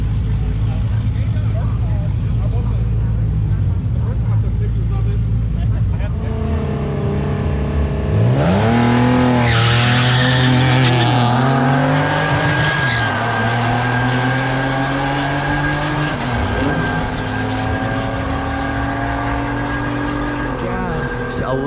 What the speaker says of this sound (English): Sound like that Mitsubishi was squealing the tires the whole way down the track